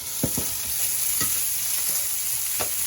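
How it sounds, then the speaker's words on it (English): Diced minute steak sizzles steadily in a hot pan, with a few soft scraping stirs from a utensil breaking through the constant frying hiss. "So the diced up minute steak is browned and ready."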